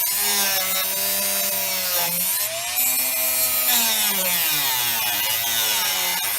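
Old fuel line on a BMW E36 is cut close up with a steady, harsh rasping grind that holds for several seconds, without talk.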